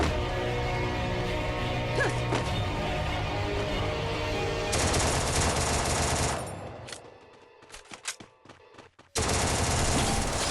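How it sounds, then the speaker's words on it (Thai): Bursts of automatic gunfire in Free Fire, dense rapid shots in loud stretches separated by quieter gaps with scattered single cracks, over a continuous game background hum. "มันยิงกันเองเหรอ"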